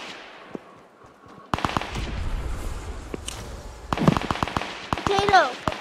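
Gunfire from a drum-magazine gun in a video game, fast bursts of sharp loud shots starting abruptly and returning in a second flurry, with voices and game sounds around them.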